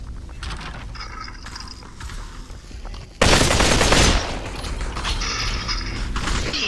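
Pistol gunfire in the video game Population One, with rapid mechanical clicks and rattling shots. A sudden loud burst of fire erupts midway and is followed by continued close, dense clatter.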